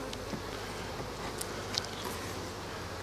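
Honeybees buzz in a steady, close, even drone during a hive inspection, with faint brief flicks as individual bees pass near.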